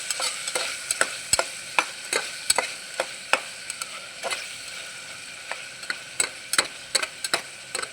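Lightly golden onions and freshly added chillies fry for a vegetable biryani, a spatula clicking and scraping against the pan in quick, uneven strokes over a soft sizzle, close and clear with no talk.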